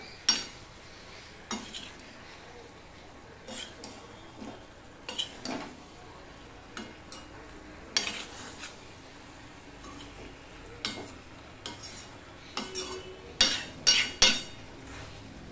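A utensil stirs a vegetable dish in a pan over low heat, with repeated metallic scrapes and clinks at irregular intervals over a faint background sizzle.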